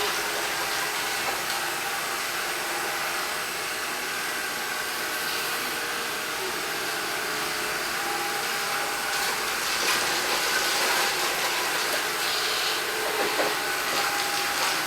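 An ILIFE V7 robot vacuum of about 400 Pa suction working across a floor, producing a continuous bright motor whine and brush hiss at steady loudness throughout, with small bumps and scrapes.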